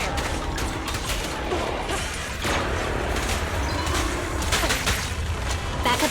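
Gunfire in the video game Zenless Zone Zero: continuous bursts of shots and crashing impacts that stay loud and dense throughout, layered with game effects.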